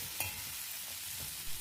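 Long beans with turmeric and salt are stirred in a pan, giving a soft steady sizzle with a few faint scraping stirs.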